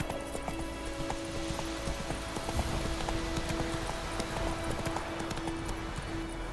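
Roach the horse's hooves clip-clopping in The Witcher 3: Wild Hunt, a steady rhythmic trot of close hoofbeats over a busy background with a sustained tone, fairly loud.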